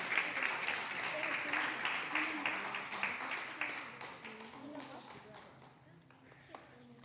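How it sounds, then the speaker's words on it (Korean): Applause from a church congregation during a Sunday service, steady clapping that gradually fades toward the end, with voices talking underneath. "우리 박수로 정리하겠습니다"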